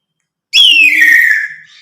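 A grey parrot imitates a kite's call: one loud, clear descending whistle-like screech that starts abruptly and slides down in pitch over about a second before fading, heard alone and close.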